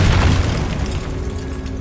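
A Confringo spell in Hogwarts Legacy sets off a deep, loud boom that rumbles and fades away over almost two seconds, with no voices.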